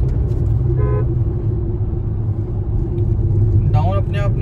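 An automatic Jeep Compass 4x4 with a nine-speed gearbox is driving with its engine rumbling steadily from inside the cabin, a constant low drone under occasional talk from the occupants.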